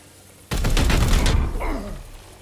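A burst of gunfire from the video game Chaos Gate: Daemonhunters, a loud, dense volley lasting about a second that then fades into a decaying rumble and ringing tail.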